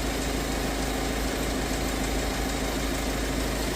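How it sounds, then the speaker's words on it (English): The diesel engine of a 2012 Kia Sorento with a loss of power idles steadily close by, a constant low rumble and vibration with no change in pitch throughout. "engine off because diesel is very loud"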